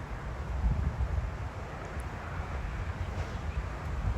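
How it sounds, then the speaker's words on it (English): Steady wind blows across an outdoor disc golf course, a constant low rushing and buffeting against the microphone, fairly faint, with no voices. "he may look close, but with this wind, it adds pressure"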